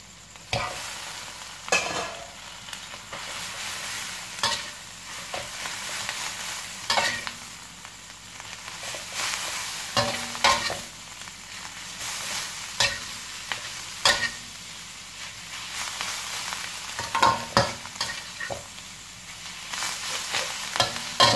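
Mie goreng noodles sizzle and hiss in a hot pan with shrimp while a utensil scrapes and tosses them in irregular bursts, close and continuous.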